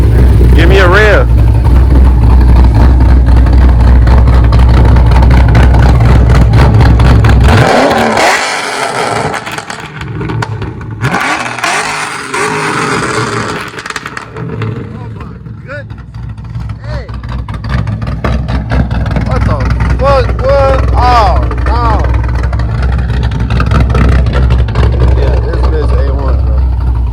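Cammed Pontiac G8 V8 engine with intake and tune, idling with a loud lumpy rumble, then revved several times with rising surges and a drop back to the choppy idle, close up with voices talking over it.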